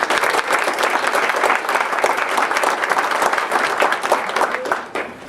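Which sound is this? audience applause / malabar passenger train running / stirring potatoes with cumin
audience applause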